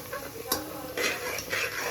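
Fried onions for chicken biryani are stirred in a pan, giving a few short scraping and clinking strokes of a utensil against metal, fairly faint and close.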